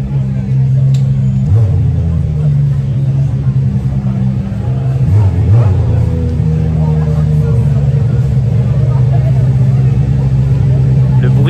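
A car engine runs loud and steady at a motor festival, with a deep rumble throughout and a couple of brief revs swelling around the middle, while a voice talks over it.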